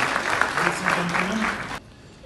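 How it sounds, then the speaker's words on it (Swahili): Conference audience at a TDC Global Kongamano applauds the speaker, a moderately loud burst of clapping with some voices mixed in, cutting off abruptly near the end. "Makofi tafadhali mengine kwa Mheshimiwa Speaker."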